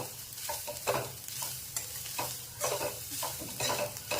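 Modak filling sautés in a pan, a soft continuous sizzle with rhythmic scraping and stirring strokes of a spoon against the metal, close and fairly quiet.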